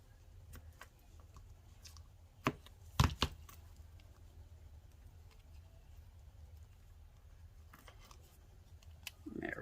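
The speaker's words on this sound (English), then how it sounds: "let's take my ribbon scissors and we will just give this a little trim" Ribbon scissors snip a paper-craft ribbon on a stamped greeting card, a couple of quick sharp cuts near the middle standing out over a quiet room.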